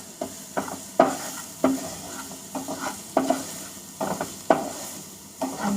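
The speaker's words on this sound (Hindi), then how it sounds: "भून लेते हैं बस" Onions and potatoes are sautéed in a pan with a soft sizzle. A spoon scrapes and stirs in a repeated rhythm of distinct strokes about every half second, close and clear.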